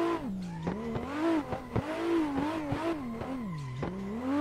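A racing video game car drifts around a skate park track in third gear, its engine wailing and swooping in pitch with constant revving, close and loud.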